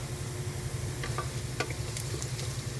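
Igado, a Filipino pork and liver dish, sizzles steadily in a frying pan while a spoon scrapes and stirs it in a few short, soft strokes, with no talking.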